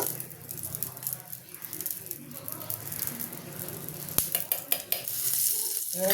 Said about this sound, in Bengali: ধোয়া জলটা আমি দিয়ে দেবো ভালো করে একটু গুলে নেব